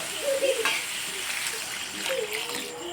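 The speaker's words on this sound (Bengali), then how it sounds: "এবার জল দিয়ে দিচ্ছি।" Water being poured into chicken ghugni with peas and boiled potatoes in a pan, a soft gushing splash and sizzle that settles into steady simmering hiss, close up.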